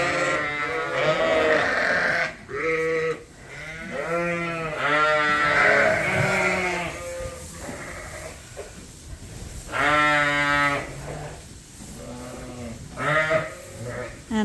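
Bred, pregnant ewes at feeding time on a farm bleating repeatedly, several loud overlapping calls close by in irregular bursts with short pauses between.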